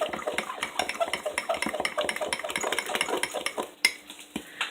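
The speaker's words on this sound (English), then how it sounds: "we're just going to mix all this together in the cup" A utensil whisks eggs and ingredients in a cup for keto French toast, a rapid run of close, rhythmic clinks and taps against the cup's sides, slowing into a few separate knocks at the end.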